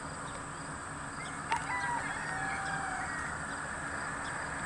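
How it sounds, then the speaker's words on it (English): Chickens on a small farm, a few short clucks and calls heard at a moderate distance over a steady outdoor background hum, with no talk. "they have some chickens."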